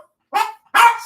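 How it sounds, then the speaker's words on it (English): A dog indoors gives two sharp, loud barks in quick succession, close by, with no talk over them. "My dogs are all in here now."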